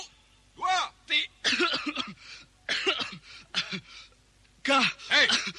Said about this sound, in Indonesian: Baris kau pakai batuk-batuk segala.